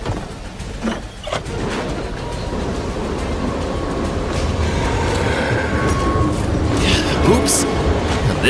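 A train rumbles along steadily in a video game, a loud continuous clatter and roar that builds slightly, with a speaking voice over it.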